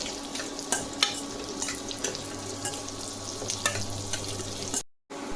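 Ginger, chili and garlic fry in a pan with a steady close hiss and scattered sharp crackles, ending in a sudden cut to silence near the end.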